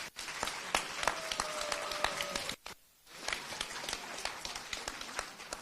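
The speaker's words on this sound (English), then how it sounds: "So a round of applause." An audience at a talk on masculinity gives a round of applause: brisk, crisp clapping that breaks off briefly partway through, then resumes, loosely mixed with a few voices.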